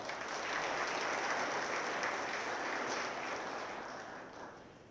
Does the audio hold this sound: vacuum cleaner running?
no